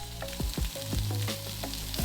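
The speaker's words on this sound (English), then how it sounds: "When nice and smoky, go ahead and throw in the shrimp first." Shrimp hit the oil in a very hot, smoky wok and sizzle loudly and steadily, with quick metallic scrapes and clanks of stir-frying close by.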